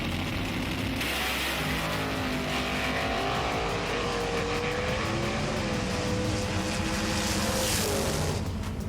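TITO Racing Sonic Evo, a 91-gram toy race car, whirs steadily around a raceway track, a loud continuous buzzing motor whine rising slightly in pitch, alone without voices.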